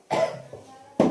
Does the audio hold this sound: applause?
no